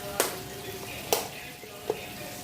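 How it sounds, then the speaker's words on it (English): Chicken pieces fry in a pan of oil, a faint steady sizzle under three sharp clicks or taps, with no talk. "I got 2 pieces of chicken frying in the back."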